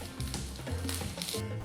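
Boiled pork sausage pieces sizzle in a flat frying pan, an even close crackle and hiss with occasional stirring clinks of utensil on pan, no talking.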